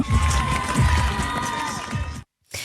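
A crowd cheers and shouts at a race, a busy roar with whistling tones and children's voices mixed in, cutting off abruptly near the end before resuming.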